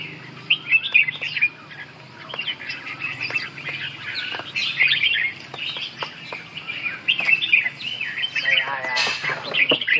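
Red-whiskered bulbuls chirp busily around a feeding spot, overlapping bright calls and twitters at close range, with wing flutters and small knocks throughout.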